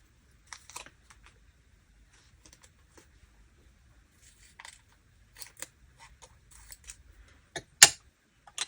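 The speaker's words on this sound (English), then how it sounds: "Use my new scissors." Sparse, crisp snipping clicks from scissors cutting book pages and washi tape, quiet and close, coming in irregular bursts with a sharper snip near the end.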